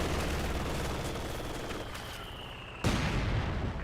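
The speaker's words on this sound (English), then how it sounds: "Some mortar hits there." Mortar shells striking in Company of Heroes 2, a dense roar of battlefield fire ending in a sudden loud impact near the end, heavy and close.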